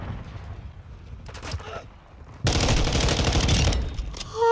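Gunfire from the video game Call of Duty: Modern Warfare, with a few scattered shots early, then a dense, loud burst of rapid automatic fire filling the second half.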